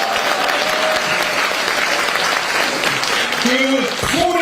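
A large crowd at a Democratic Party Seoul campaign launch ceremony applauds loudly and steadily, while a speaker's amplified voice rises over the clapping near the end.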